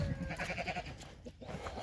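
A farm goat bleats faintly in the background after a storm, one wavering call among low outdoor noise and soft rustling.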